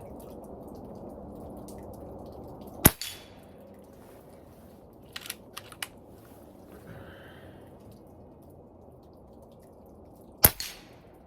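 Two sharp cracks from a PCP air rifle fed by an Umarex Komplete 3600 psi tank each come with a quick smack as a pellet strikes a spinning turkey target. A few softer clicks fall between the shots, and no one talks.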